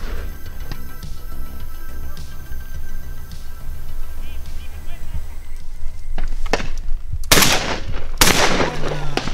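A few sharp shotgun shots crack out near the end at a hunting shoot in Castuera, Spain, loud and close, after a stretch of outdoor background noise.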